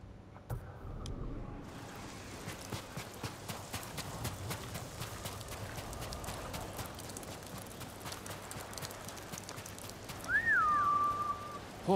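A horse's hooves clip-clop at a steady trot in the Ghost of Tsushima video game, set on Iki Island, over a windy outdoor bed. A short rising whistle sounds near the end.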